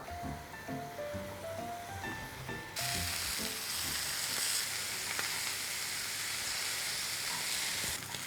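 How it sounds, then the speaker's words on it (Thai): Salted, peppered scallops hit hot oil in a pan, and after a few seconds of soft musical tones a loud, continuous searing sizzle takes over and holds steady. "พอน้ำมันเริ่มร้อนนะครับนำหอยเชลล์ลงไปจี่ ด้านละ 3 นาทีครับ"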